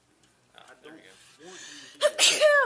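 A sharp, loud sneeze bursts out suddenly during a card game, coming right after quiet conversation, with voices continuing around it.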